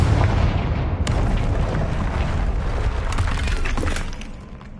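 A blasting spell detonates in the Hogwarts Legacy game, a loud crashing boom with shattering debris that rumbles on for several seconds before fading.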